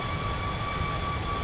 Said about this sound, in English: This is a MAX-10 engine, man.